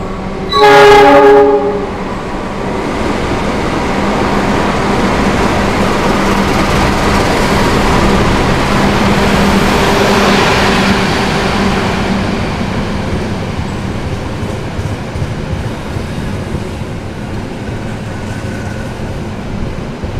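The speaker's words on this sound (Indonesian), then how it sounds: "ini kereta api Mutiara Selatan sudah masuk di stasiun Maos." The Mutiara Selatan train from Bandung pulls into Maos station, opening with a short loud horn blast, then a long steady rumble of wheels and carriages rolling past nearby that slowly fades.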